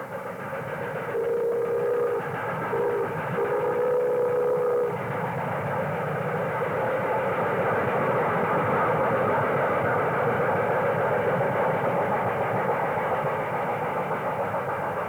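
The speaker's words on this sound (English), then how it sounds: "Another Camelback consolidation powers a freight through Joanna." A Camelback consolidation steam locomotive hauls a freight train through Joanna, a loud, continuous rumbling roar with a brief steady tonal note near the start.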